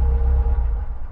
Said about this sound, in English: I hear a car approaching.